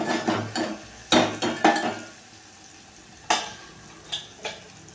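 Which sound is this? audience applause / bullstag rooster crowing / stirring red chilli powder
stirring red chilli powder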